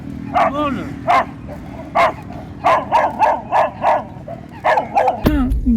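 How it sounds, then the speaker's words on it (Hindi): A pack of dogs at a roadside fish eatery, barking repeatedly in loud, close bursts with some yips and whimpers, a rhythmic series of barks over a busy outdoor background. "इतने डॉग्स, इतने कव्वे इकट्ठे हो गए।"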